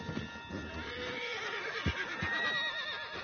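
A horse neighs in Red Dead Redemption 2, a drawn-out wavering whinny over a steady game soundscape, with a couple of dull hoof thuds partway through and no talk.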